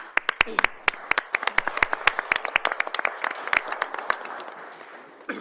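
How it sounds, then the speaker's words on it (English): Applause and scattered hand clapping from the audience at a city council meeting, a brisk run of sharp claps that thins out over about five seconds, fairly close and heard alone without talk. "how about a round of applause?"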